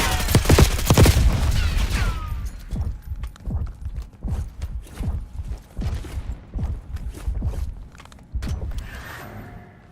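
Gunfire rings out in Black Ops 6 as a loud, dense burst of shots opens the stretch, followed by rapid, evenly spaced single reports that keep going close by until the end.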